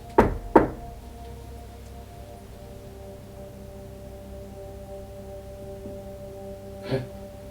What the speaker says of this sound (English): Can you give us 2 knocks together?